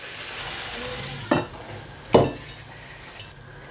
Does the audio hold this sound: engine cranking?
no